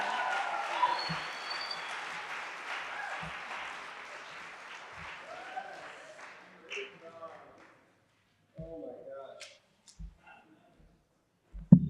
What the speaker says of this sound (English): One more round of applause for Destiny